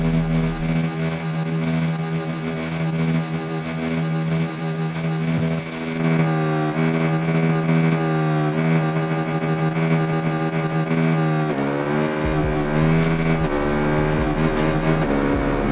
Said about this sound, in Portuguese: vamos acelerar essa moto aqui